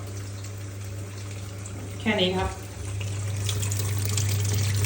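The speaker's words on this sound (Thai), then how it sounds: "น้ำไหลสะดวกเลยนะครับ" Water runs steadily into the tub of a washing machine after an inlet fault is fixed, a constant hiss under someone speaking briefly in Thai.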